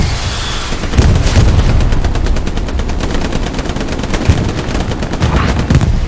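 Tank cannon and machine-gun fire in the WWII shooter Hell Let Loose, with repeated heavy booming shots and rapid bursts of gunfire sounding continuously and loudly throughout, no talk.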